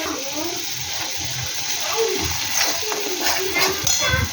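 Water is poured into a cooking pan partway through making a yogurt-based fish curry (doi katla), giving a close, steady splashing trickle that runs through the whole stretch, with a faint voice in the background.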